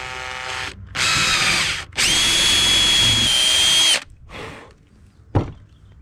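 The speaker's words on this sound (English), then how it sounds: "put a piece of tape like this on your drill bit so you can use that as a depth guide so you don't drill through" Power drill boring pilot holes into wood for the lag bolts of a wooden fence gate hinge, with several loud close bursts of whining motor, brief pauses between them, and a thunk at the end.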